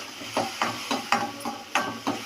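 Crushed turkey berries sauté in oil in a pan, giving soft sizzling with a series of regular stirring scrapes, close and fairly quiet, with no talking.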